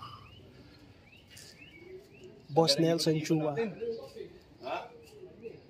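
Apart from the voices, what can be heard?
racing pigeons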